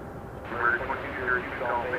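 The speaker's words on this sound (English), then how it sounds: "Lufthansa Flight 439 to Frankfurt, the A340-300." A Lufthansa Airbus A340-300 airliner on a flight to Frankfurt, heard as a steady broad jet roar with a rising whine, moderately loud and continuous at an airport.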